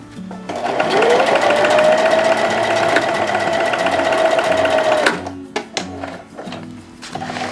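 A sewing machine runs a steady, continuous stitching line at a shortened stitch length for about four seconds, close and loud, then stops into a few scattered handling clunks.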